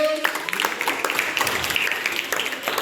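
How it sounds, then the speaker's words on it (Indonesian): A school class applauds, with a brisk, uneven patter of many hands clapping for about three seconds and faint voices underneath. "Tepuk tangan dulu untuk"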